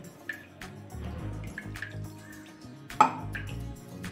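Water poured over washed moong dal in a vessel, giving faint dripping and trickling with a few light metallic clinks, one sharper clatter near the end, all quiet and close.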